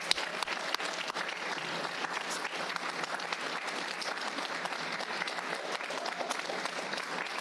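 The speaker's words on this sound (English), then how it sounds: "Give them a round of applause." An audience at a Rockford Public Schools board meeting applauds high school seniors from Auburn High School, a steady, moderately loud wash of clapping that holds evenly from start to finish with no talk over it.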